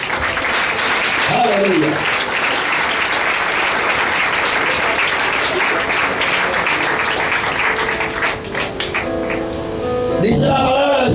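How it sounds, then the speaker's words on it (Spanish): A church congregation applauds in a long, loud, dense burst of clapping. It fades near the end as a voice calls out over it. "Denle el aplauso al Señor."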